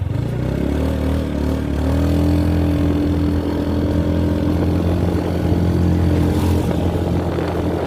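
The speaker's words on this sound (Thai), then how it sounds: "ใส่เกียร์ต่ำเร่งเครื่องกัน" A vehicle accelerates hard in low gear on a mountain road, its engine droning loud and steady with rising harmonic tones throughout, and no voices.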